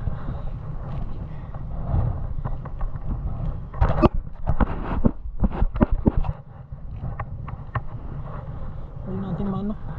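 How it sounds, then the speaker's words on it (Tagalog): Strong wind buffets the microphone on a beach, a steady broadband roar throughout with gusts and some handling bumps in the middle, while a person talks over it. "Talagang malakas yung hangin mga katuto."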